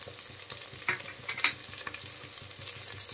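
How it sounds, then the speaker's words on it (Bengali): Chopped onion and green chili sizzle steadily in a hot pan, a continuous close frying crackle with a few louder pops and stirring scrapes over about three seconds, no voices. "এখন এর মধ্যে আমি দিয়ে দিলাম কাঁচা লঙ্কা"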